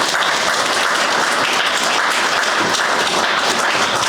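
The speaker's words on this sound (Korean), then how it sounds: "정기용 회장을 위해서 여러분 박수 부탁드리겠습니다." Sustained applause from the crowd at a Korean book launch event for Jeong Gi-yong's book, dense and steady clapping filling the room throughout with no voices over it.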